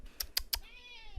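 A black cat meows three times in quick, close succession, fairly soft, followed by a faint trailing hum of room noise.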